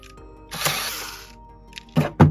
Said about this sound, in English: Now using a T8, we'll take out these two screws.